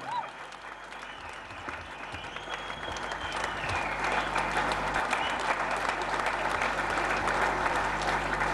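At an RCM event, an audience applauds Mrs. Neha Agrawal onto the stage, the clapping starting moderate and swelling into loud, sustained applause.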